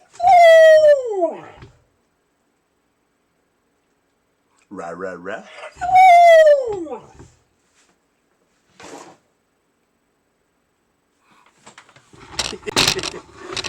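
A dog indoors howls twice in long, sliding, falling wails, with shorter whimpers and yips between them and a clattering noise near the end.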